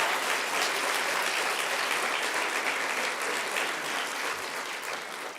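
Steady applause from an audience at a Monetary Policy Committee Schools Challenge winners' announcement, sustained clapping at even strength that fades slightly toward the end, with no voices over it.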